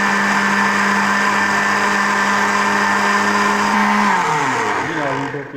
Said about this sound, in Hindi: अभी नीम गर्म हो चुका है तो इसको हम फिर ग्राइंड कर लेते हैं।